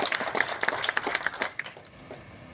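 At a Hindi film event for the movie Bhaiya Ji, an audience claps in a brief, moderately distant burst of scattered applause that fades out after a second or two.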